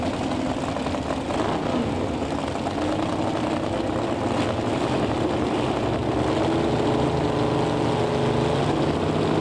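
A 632 cubic inch drag racing hot rod engine roars loudly and steadily at a racetrack, a dense sustained drone with rising pitch and no voices.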